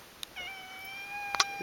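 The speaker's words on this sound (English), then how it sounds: "kitty cat. Hi, kitty." A cat in a November island garden gives a couple of meows, one short and one longer and clearer, close by in a quiet outdoor setting.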